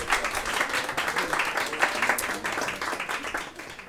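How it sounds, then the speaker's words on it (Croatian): Audience applause at an evening chemistry event in Rijeka, a steady wash of many hands clapping throughout, moderately loud and continuous without a break. "Može jedan aplauz"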